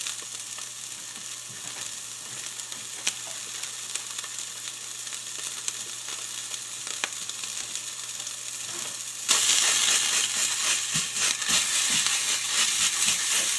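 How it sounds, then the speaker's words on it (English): Sausage sizzles steadily in a pan for keto breakfast spaghetti, a dense crackling hiss that jumps louder and brighter partway through, with occasional faint clicks from stirring and no talking. "We're going to fry this up."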